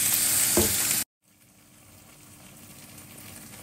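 Soy sauce hits a hot frying pan with a loud, bright sizzle for about a second, then a sharp break and a quieter, steady frying hiss that slowly builds.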